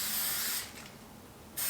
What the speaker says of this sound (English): I'm just going to give it a quick spray with some